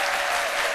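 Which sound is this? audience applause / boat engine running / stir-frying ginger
audience applause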